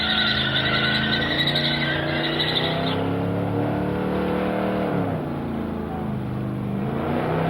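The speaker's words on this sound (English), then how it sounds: "There's a 429 big block, my favourite kind of engine." A drag car with a 429 big block engine revs loudly at a Summernats car festival, a sustained, close engine roar whose pitch swells and sags through repeated throttle blips.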